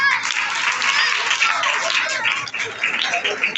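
An audience at a youth Christmas competition in a Baptist church claps strongly, a dense, loud, continuous burst of applause that briefly dips before swelling again.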